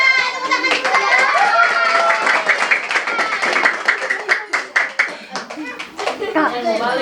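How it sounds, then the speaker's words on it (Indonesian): A group of children and adults claps hands together at a community reading school. The rapid, lively clapping is loud at first, then breaks into uneven bursts and slaps, with children's voices mixed in. "Iya, tepuk tangan dulu ya."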